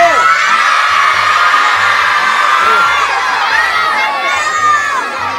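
A crowd of children shouts and cheers together outdoors in one loud, sustained burst of excited yelling and whoops that lasts throughout.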